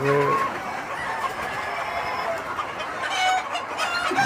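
Kadaknath chickens on a poultry farm cluck and call continuously in a dense, busy flock chorus that fills the whole stretch, close and fairly loud, with no talking.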